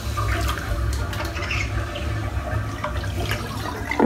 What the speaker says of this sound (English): Right, let's just empty this water out.